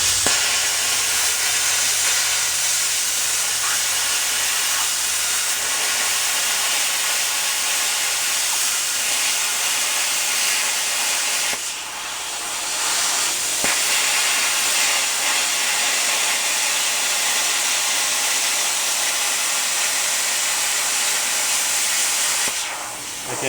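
Plasma cutter cutting freehand through a Toyota Tundra frame, a loud, close, continuous harsh hiss that holds steady for over twenty seconds with brief dips, no talking.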